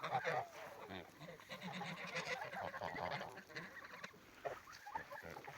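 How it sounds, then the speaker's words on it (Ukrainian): Large farm geese honk in repeated, uneven calls, fairly faint and close together, with quieter rustling between them. "Ну, Це ж ось стоїть гусак."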